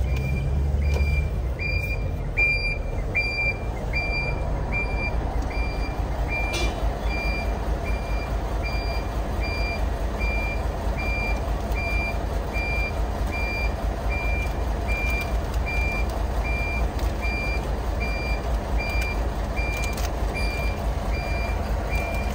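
A truck reverses on a street in Itajaí, Santa Catarina, its backup alarm sounding a steady train of evenly spaced high beeps over a continuous low engine rumble, close and loud throughout.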